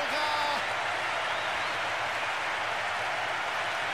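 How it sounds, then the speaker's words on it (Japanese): Crowd roars and cheers after a goal in the football video game Winning Eleven 10, a broad, steady wash of stadium noise that holds loud and even throughout, with a brief whistle-like tone near the start. "大歓声が響き渡ります。"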